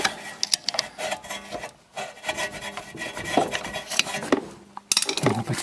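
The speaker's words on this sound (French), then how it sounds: "essaye de passer un tournevis comme ça. Tu grattes, tu insères, tu fais levier et il va se décrocher" A screwdriver scrapes and pries at a plastic clip on a Mercedes during a rear wheel bearing replacement, giving close, uneven rasping and scratching strokes with short pauses and a sharp pop near the end.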